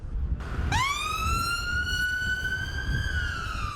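An ambulance siren wails steadily at moderate distance outside Parliament, a single long rising tone that holds and drifts, with low traffic rumble underneath.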